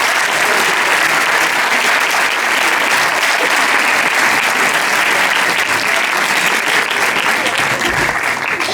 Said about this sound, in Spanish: y un aplauso para ellos